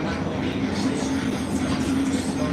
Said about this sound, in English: So where is this train off to?